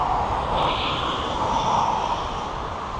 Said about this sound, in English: the East Mids Flying School Cessna 152 is on the approach